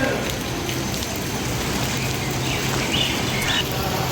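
Heavy monsoon rain pours down in Delhi, a dense, even hiss of drops hitting surfaces that stays loud and unbroken throughout.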